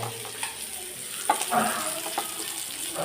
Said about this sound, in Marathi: मासे फ्राय करू हे करतो मासे फ्राय